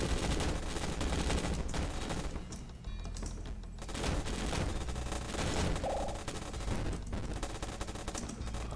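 Rapid gunfire in the video game Yawnoc, a dense, continuous barrage of shots that fills the whole stretch, loud and busy with layered game sounds and no talk over it.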